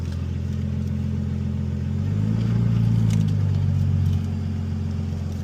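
A Nissan Stagea with ATTESA all-wheel drive idles and then pulls forward onto service ramps, its engine rumbling low and steady, swelling briefly in the middle before settling back, with no voices.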